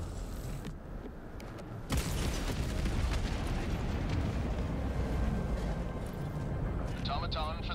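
A large Automaton facility blows up in the Helldivers 2 video game, a sudden loud broadband blast that rolls into a sustained rumbling roar with scattered debris crackles and faint electronic tones near the end.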